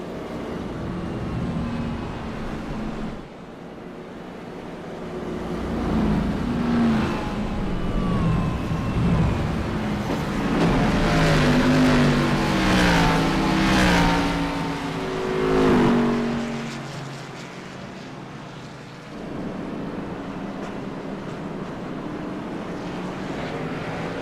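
Race cars circling under caution at Bristol Motor Speedway in the iRacing Xfinity Series sim, engines droning at a steady pace and swelling louder through the middle before easing back.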